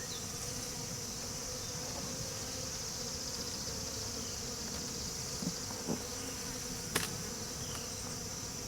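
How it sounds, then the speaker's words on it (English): Honey bees swarm over the frames of a neglected nuc hive, making a steady, dense buzzing hum that never lets up, with a few faint knocks from the frames. "I've got 2 frames completely covered in bees"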